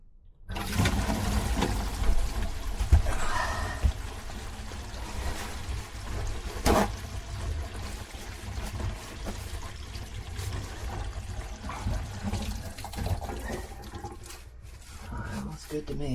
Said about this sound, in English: Let's go ahead and release that water and just let it flow down now.